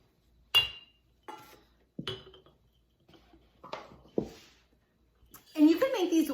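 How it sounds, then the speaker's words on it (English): Dry oats poured and scooped into a glass container, with several separate clinks and taps of utensil on glass and a louder rattling pour at the end, quiet and close. "now can you transfer those oats into there?"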